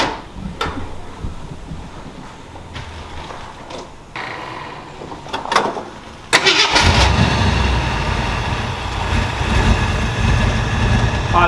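Cold Toyota FJ truck engine with an aftermarket cam and no choke hooked up, a few clanks and bursts of cranking before it fires abruptly and settles into a loud, slightly uneven idle close by.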